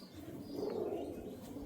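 Restless pigeons handled at close range give a soft, low cooing murmur over a quiet background hiss, lasting under two seconds.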